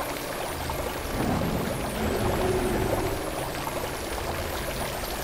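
Water pours steadily in the Lego Harry Potter video game, a continuous splashing rush that stays loud and even for about five seconds with no voices over it.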